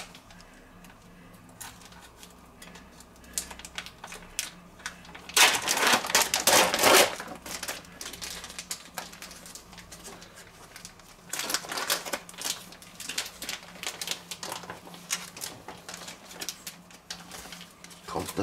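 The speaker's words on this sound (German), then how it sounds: "Aber die packe ich mir jetzt aus." A frozen pizza is unwrapped from its plastic wrapping, with crinkling and crackling film, a loud burst of rustling near the middle and steadier crackles later, under light room noise.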